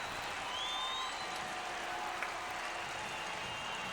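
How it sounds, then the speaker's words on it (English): Stadium crowd at an NFL game in Tampa, Buccaneers hosting the St. Louis Cardinals, cheers after a touchdown: a steady, distant wash of applause and crowd noise with no break. "They're cheering their team."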